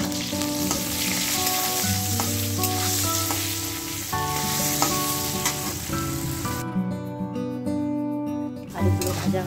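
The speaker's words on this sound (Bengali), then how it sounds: "যতক্ষণ মাংসটা সেদ্ধ হচ্ছে ততক্ষণ আমি একটু আলুগুলো ভেজে নেব।" Potatoes fry in oil with a loud, close, crackling sizzle and occasional stirring sounds. Background music plays over it and drops out briefly near the end, leaving the sizzle more exposed.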